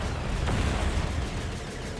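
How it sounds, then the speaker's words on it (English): Heavy cannon fire from a Baneblade-type tank in the strategy game Dawn of War, a deep rumbling boom with chunky low-end weight rolling across a dense battle soundscape. "Imperial Icon being fired at by the last cannon. Wonderful sound effect on this guy as well."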